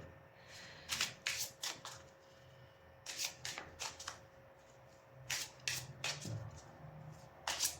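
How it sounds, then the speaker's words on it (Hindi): A new deck of tarot cards being shuffled by hand, several quick riffling bursts separated by pauses, soft and close against a quiet room. "last shuffle"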